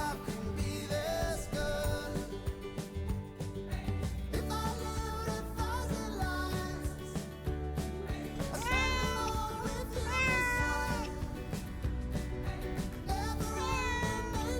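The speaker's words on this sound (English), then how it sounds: "And the red cat, Gisper." A red cat at a campsite in Broome, Western Australia, meows repeatedly in drawn-out, rising calls over a steady background of music, with no talking.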